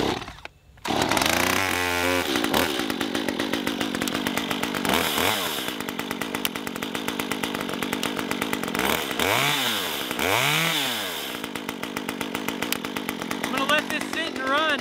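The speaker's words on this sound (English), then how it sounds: "Let's start it up. Okay, now it tried to fire, so we'll turn the, the choke off." Stihl MS 194T top handle chainsaw starting and warming up, a loud close buzzing two-stroke idle with a few sharp revs swooping up and down, and a voice talking briefly near the start.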